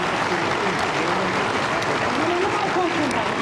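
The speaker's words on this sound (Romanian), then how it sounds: "Aplauze pentru asta." A television studio audience applauds during a Romanian live talk show, a steady, dense wash of clapping that fills the whole stretch with voices faintly mixed in.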